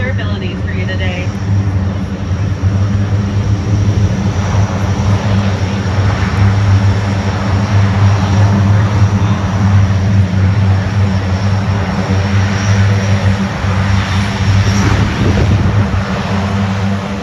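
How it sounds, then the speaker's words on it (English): An MC-130J propeller aircraft at an air show gives off a loud, sustained, droning engine roar with a steady low hum that holds for the whole stretch, under a faint public-address voice. "The MC-130J is Air Force Special Operations' newest multi-capable C-130."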